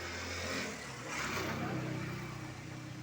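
A motorcycle speeds past on a road as a loud, continuous engine roar that swells and fades slightly over a few seconds.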